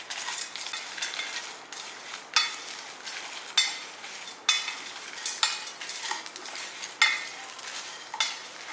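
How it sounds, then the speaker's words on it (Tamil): Black pepper and cumin dry roast in a pan, with a steady faint crackle and a rhythmic series of scraping stirs, roughly one every second, close and alone. "பாருங்கள், லேசாக பொரிய ஆரம்பிச்சிருச்சு."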